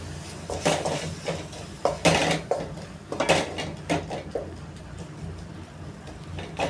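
A metal cooking pot of tomato rice being covered with its lid: a series of close clanks, rattles and scrapes of metal on metal, the loudest in the first half, then fading to lighter taps, without speech.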